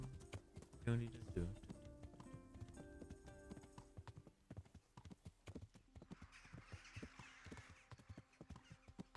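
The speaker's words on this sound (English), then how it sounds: "Come on, horsey, you can do it." A horse trotting in the medieval video game Kingdom Come: Deliverance, rhythmic clip-clop hoofbeats with a whinny early on, under someone talking and soft keyboard typing.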